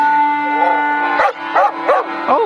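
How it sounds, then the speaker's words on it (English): A cartoon police dog barks in the Lego Juniors Quest video game, four short bouncy yaps in a row over a steady synthetic game tone, loud and close. "Oh, the police have a dog."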